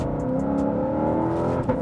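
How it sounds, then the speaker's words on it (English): A Ford Mustang GTD, its engine still being broken in, burbles at low RPM with a deep, steady exhaust drone, loud and close, with no talking over it. "You have a really good exhaust note at low RPMs"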